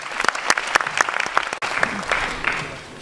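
Loud applause from an audience at a company promotion meeting, starting with sharp distinct claps and growing into denser continuous clapping, with a brief dip partway through.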